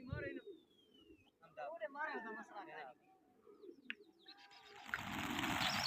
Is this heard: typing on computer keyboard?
no